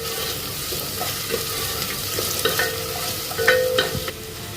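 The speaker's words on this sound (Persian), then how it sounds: "1 دقیقه خوب هم میزنیم و سرخش میکنیم" Salt and spices fry with a soft, continuous sizzle in a pan while being stirred, with occasional scraping clinks close by and no talk.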